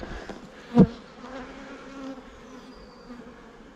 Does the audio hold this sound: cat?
no